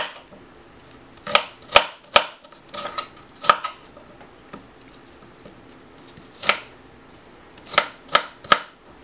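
A knife cutting through avocado for guacamole, with about a dozen sharp, separate taps against a board in irregular bursts and quiet gaps between.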